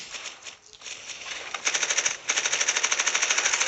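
Automatic weapon firing in the video game Blitz Brigade, a rapid rattling burst of shots at moderate volume that stops briefly and then resumes in a fast, even stream.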